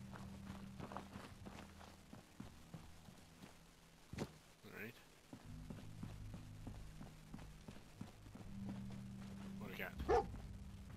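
Dog companion in Fallout 4 moving about, with soft repeated footfalls and a few short barks over a steady low game ambience, while someone talks intermittently.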